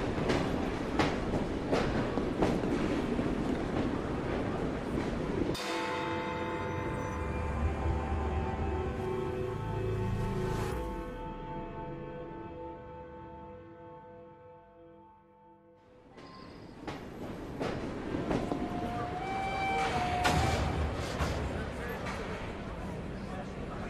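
A train rolls along with rhythmic clickety-clack and rumble in the game Assassin's Creed Syndicate. Some of it is heard in the open, with game voices and crowd noise over it, and part of it is heard from inside a carriage, louder and more enclosed.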